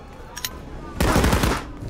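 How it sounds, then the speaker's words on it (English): Rapid automatic gunfire bursts loud and close in the Warhammer Chaosbane video game on PC, a dense volley starting abruptly after quieter ambient game sounds. "Chan just starts shooting"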